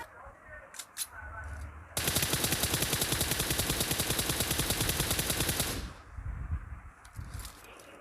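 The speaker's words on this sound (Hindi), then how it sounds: "तो मैं वहाँ पर फ्री फायर देता हूँ।" Sustained automatic gunfire from the BGMI battle royale game, a loud rapid burst of shots lasting about four seconds, with quieter game ambience before and after.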